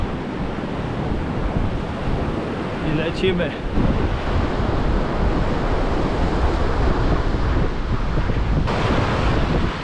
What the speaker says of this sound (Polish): relaksuje się wsłuchany szum Morza Bałtyckiego